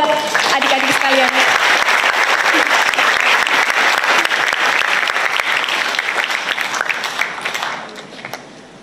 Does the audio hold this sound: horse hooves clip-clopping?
no